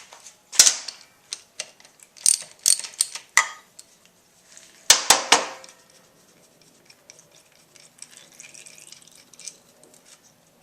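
Metal tools click and rattle as a 10mm bolt is removed from the gear shift lever of a Honda CRF50 mini dirt bike, a series of sharp close taps and scrapes followed by quieter faint handling.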